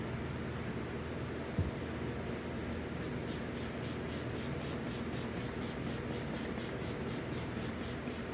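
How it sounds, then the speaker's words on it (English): Degreaser sprayed onto an oiled Spectre air filter: steady hiss of spraying with a run of short rhythmic spray bursts from about three seconds on, close and fairly quiet over a constant noise bed. "So now I got the degreaser spray."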